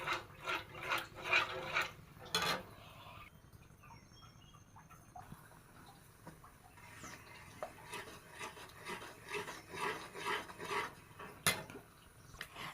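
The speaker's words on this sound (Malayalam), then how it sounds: "ഇതാ ഗ്യാസിൽ വെച്ചിട്ടുണ്ട്. നന്നായിട്ടൊന്ന് ഇളക്കി കൊടുക്കണം." Fruit salad mixture is stirred in a pot on a gas stove, a spoon scraping and rubbing in repeated rhythmic strokes, with a quieter pause and a sharp knock in between.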